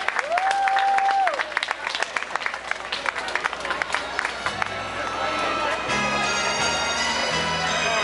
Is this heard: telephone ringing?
no